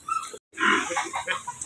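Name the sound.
pigs oinking at a piggery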